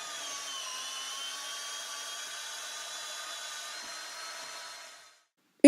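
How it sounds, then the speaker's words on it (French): A power drill with an 18 mm bit bores through the underlayer of a slate roof, a steady whining drone lasting about five seconds before cutting off abruptly. "Avec l'utilisation d'une perceuse et d'une mèche de 18, traversez le complexe sous toiture et repérez la sortie."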